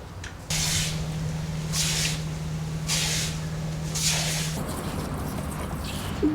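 A garden hose sprays water at a boatyard while a catamaran is refitted, a steady broadband hiss with periodic louder surges, close and continuous, then cut off near the end.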